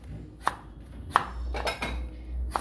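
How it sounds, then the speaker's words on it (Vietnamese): A knife chopping a carrot strikes a cutting board in a few sharp, irregularly spaced chops, close and crisp against a quiet background. "Với cả củ cà rốt này thì các bạn cũng thái nhỏ cho mình"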